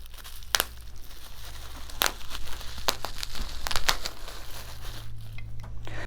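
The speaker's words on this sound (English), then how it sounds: "let's go ahead and unwrap the bubble wrap from our module" Bubble wrap comes off a Z-Flash switch module, making close crinkling and rustling with scattered sharp crackles and pops, heard alone over a low steady hum.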